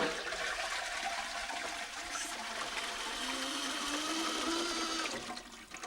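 A toilet cistern fitted with a Cistermiser Easyflush hand-sensor flush discharges in one steady, loud rush of water lasting several seconds, then cuts off abruptly.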